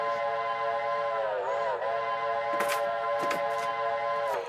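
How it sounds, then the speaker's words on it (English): Custom Chinese steam locomotive whistle on an Atlantic engine in the railroad game Railroader, a steady multi-tone chime held loud for several seconds with a brief pitch dip, with short clicking sounds over it. "I have the Chinese whistle."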